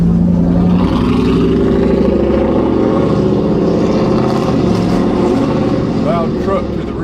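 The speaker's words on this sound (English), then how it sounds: "Loud truck to the rear." Loud truck rumbling behind a car in city traffic in Atlanta, a heavy, steady engine drone that lasts throughout and stays close.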